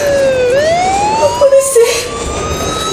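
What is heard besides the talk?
police patrol car sirens approaching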